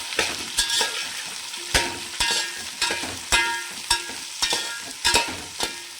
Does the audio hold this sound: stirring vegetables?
yes